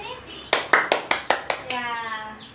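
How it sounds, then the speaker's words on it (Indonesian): Classroom of schoolchildren clapping for a classmate during a biology lesson: six sharp, evenly spaced bursts of claps, loud and close, followed by a brief tonal trailing sound as the clapping stops. "Boleh tepuk tangan dulu kepada teman kita nih."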